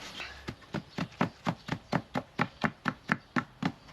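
A solid wooden block pounds a sand base for a patio in Greece, about fourteen steady, evenly spaced thuds at roughly four per second, close and fairly crisp.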